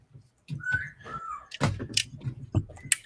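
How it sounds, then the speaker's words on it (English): Clear whistled, bird-like tones rise and hold over a few seconds, with knocks and clatter nearby in between. "I love the bird sounds."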